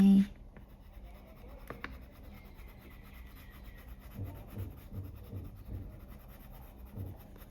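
A pencil shades leaves on textured paper in small circular motions, giving a soft, steady rubbing and scratching close to the microphone, with a voice talking quietly over it.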